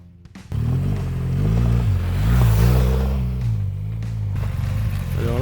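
A trail motorcycle on an off-road course through woods and rocks revs up after a brief pause, producing a loud rising and falling engine drone with wavering pitch that then settles into a steady roar.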